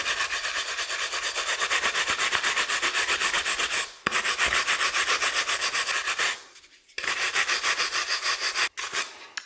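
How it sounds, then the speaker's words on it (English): Drill-mounted polishing brush buffing wax onto a turned chestnut-finished wooden bowl, a loud, steady close rubbing whir that cuts out briefly a few times before resuming. "So, start buffing up like this."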